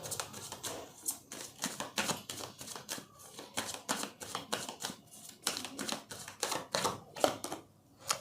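Tarot cards handled and drawn from a deck during a Hindi reading, giving a steady run of crisp papery flicks and slaps up close, with no one speaking.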